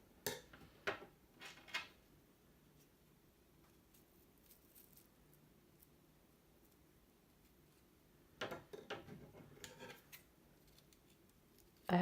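Scissors cut the edge of a ribbon for a spike bow. Faint, close snips come in a few short clusters, separated by a long quiet stretch.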